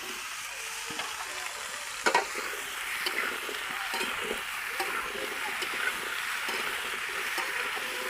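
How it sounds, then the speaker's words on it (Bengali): Vegetables for a Bengali pachon dish dropped into a hot pan, giving a soft continuous sizzle with a sharper burst and clatter as they land, followed by scattered stirring clicks. "সবজিগুলো ঢেলে দিচ্ছি।"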